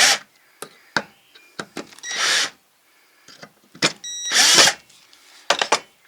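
Screws driven into a homemade cold-smoking smoke generator grate, heard as short bursts of a power screwdriver whirring with gaps between them, plus scraping and handling of the metal parts.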